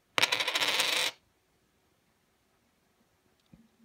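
A thick British 2 pound coin drops and rattles onto a hard surface in one loud burst of about a second, followed by near silence and a faint tap of handling near the end.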